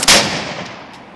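A shotgun fires a single 00 buckshot round at a target 100 yards away outdoors, one loud sharp blast followed by a long rolling echo that fades over about a second.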